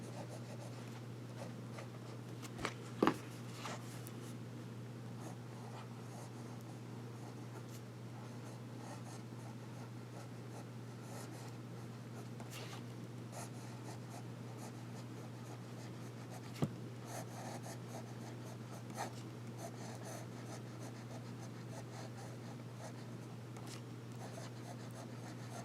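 A vintage Sheaffer fountain pen nib scratching across paper in a steady, faint, continuous rasp over a low background hum, with a couple of soft taps in the first few seconds.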